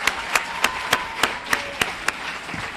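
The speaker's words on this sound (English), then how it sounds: "we'll give him a round of applause." Sparse, evenly spaced claps ring out in a graduation ceremony hall, about nine sharp claps in under three seconds rather than a full crowd ovation, each one crisp and moderately loud over a quiet room.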